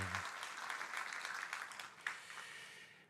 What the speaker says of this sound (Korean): 우리 위로의 박수 하십시다